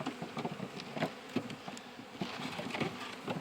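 Honey bees buzz around an open hive being worked in March, a dense, close, fluttering drone with many overlapping wingbeats and no voices.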